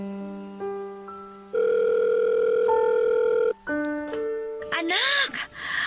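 A telephone call comes through as a string of loud electronic tones: steady held beeps of changing pitch, a short break, then warbling ringing tones near the end.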